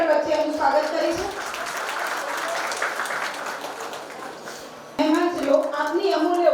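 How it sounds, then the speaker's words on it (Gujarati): Audience applause welcoming guests at a school annual function for pre-primary to grade 2 pupils, steady crowd clapping for several seconds that fades slightly before speech resumes over it. "તાળીઓના ગળગડ વચ્ચે એમનું સ્વાગત કરીશું"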